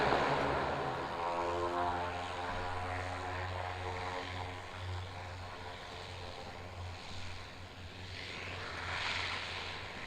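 Military propeller aircraft taking off, a loud droning engine with a strong low hum and rising, shifting tones, steady and near at first and then easing slightly, with no voices.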